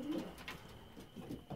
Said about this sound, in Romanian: deci acești porumbei